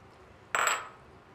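Halved cherry tomatoes drop into a pan with one short, bright clatter and sizzle that fades quickly, heard close in a quiet kitchen with no talking.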